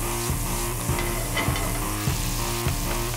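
Pancetta frying in a hot pan, a steady, loud sizzle with occasional stirring scrapes, close up and continuous with no talking.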